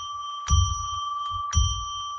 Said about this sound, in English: we do that by ringing a bell 3 times to declare a sacred space